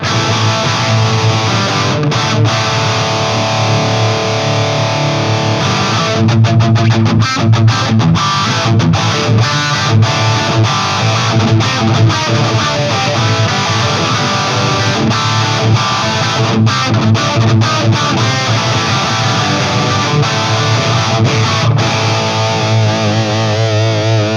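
Loud, heavily distorted Harley Benton Fusion-T HH guitar plays a sustained, driving high-gain riff with thick chords and chugging rhythm throughout, with no talking.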